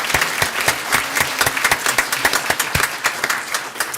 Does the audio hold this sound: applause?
yes